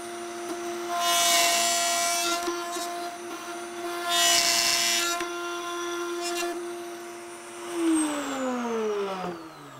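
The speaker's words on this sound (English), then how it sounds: "We'll come into here, cut the dovetails on the other side." A router cuts dovetails in drawer wood guided by a jig: a steady high motor whine runs throughout, with two loud bursts of cutting as the bit passes through the wood, then the motor winds down at the end.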